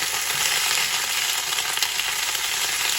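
Potatoes fry in a cast iron skillet, a dense, steady sizzle that stays loud and close with no voices.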